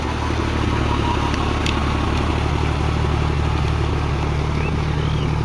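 A John Deere 5105 4WD tractor runs a rotavator in low second gear at about 1500 rpm, its diesel engine chugging steadily and loudly from close by with a constant rhythmic clatter throughout.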